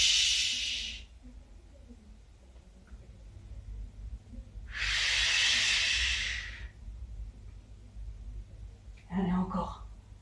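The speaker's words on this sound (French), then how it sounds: "Inspirez, soufflez." During a Pilates leg and glute exercise, two long, breathy exhalations hiss out close to the microphone with a quiet pause between them, then a brief voiced sound follows.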